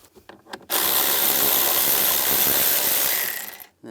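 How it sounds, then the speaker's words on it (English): A socket wrench or driver with a 13mm socket spinning a bolt out of a 1998-2010 Volkswagen Beetle interior, one loud continuous whirring burst of about three seconds after a few faint knocks. "Using a 13mm socket, we're going to take this bolt out."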